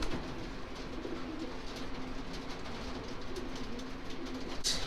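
Racing pigeons coo softly inside a small loft, low repeated throaty calls under a steady background hum, with a brief faint scrape near the end and no talk.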